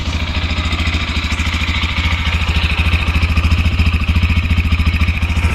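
A Lifan KPM200 motorcycle engine idles steadily and close by on a cold start at about 2000 rpm, a fast even low chugging with a faint mechanical clatter on top, holding a constant pace throughout.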